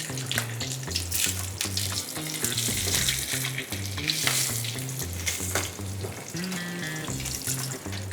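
Thick, heavy pieces of hilsa fry lightly in a pan, giving a steady close sizzle broken by occasional stirring scrapes and light watery splashes. No one talks.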